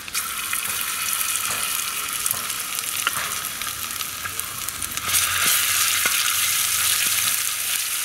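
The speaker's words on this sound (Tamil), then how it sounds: "அதே எண்ணெயிலேயே கொஞ்சமாக வெந்தயம் இஞ்சி பூண்டு பேஸ்ட்டு" Fenugreek seeds and ginger-garlic paste sizzle in oil left over from frying avoli fish, a steady loud hiss with a few small crackles throughout, growing slightly stronger partway through.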